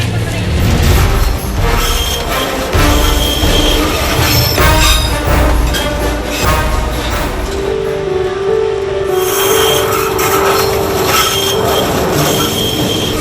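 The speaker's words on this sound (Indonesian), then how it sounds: "tanda kereta akan melintas" A loud train rumbles close by through a market built on the railway tracks at Dupak Magersari, wheels squealing and screeching on the rails, with a sustained metallic whine as it passes.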